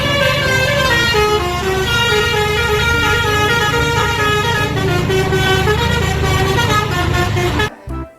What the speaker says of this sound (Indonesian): Yang ini ada mobil bus telolet.